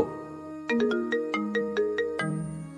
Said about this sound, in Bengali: ফোনও বেজে উঠল।